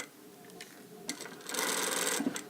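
A sewing machine stitches a sleeve into a blazer along the shoulder, its motor whirring in short starts before settling into a steady, close buzzing run.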